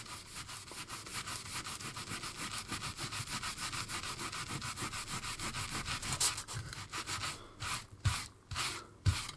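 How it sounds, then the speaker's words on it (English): Wet paper layer being rubbed off foam cardboard, a steady run of soft, rapid scratchy strokes, close up, then slowing into a few separate rubs toward the end. "rub it, and there you can see it comes off"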